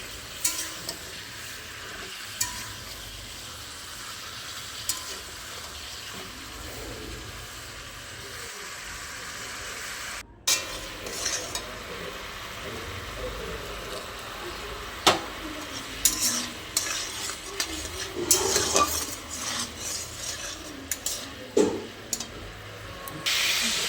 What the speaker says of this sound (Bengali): হলুদ দিয়ে এখন চিকেনটা একটু আজকে ভেজে নিচ্ছি।